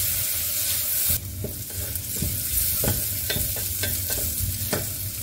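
Large sliced onions sizzle in a pan while being stirred for a spinach biryani, the steady frying broken by a series of scraping, clattering stirs close by, with no voices.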